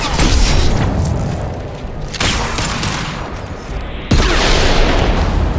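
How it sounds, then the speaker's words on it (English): Heavy concussive shots fired in a video game: three loud, booming blasts spaced about two seconds apart, each with a long rumbling tail. "Firing concussive shot!"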